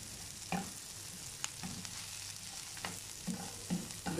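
Red cabbage fries in a pan as a homemade noodle dish is prepared, with a steady soft sizzle and several brief clattering stirs near the start and again toward the end, with no voices.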